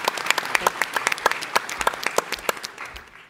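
Audience applause at the Startup Battlefield 2023 pitch competition, a moderately sized crowd clapping with distinct crisp individual claps over a steady wash, fading slightly at the end.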